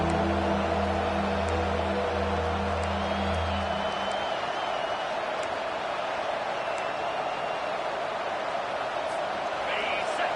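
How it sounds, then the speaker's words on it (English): Home crowd at a football game roaring steadily through a third-down defensive stand, a dense continuous wash of cheering with scattered whistles, loud throughout, while a low hum fades out partway. "Here comes this home crowd as the defense tries to get off the field on 3rd down."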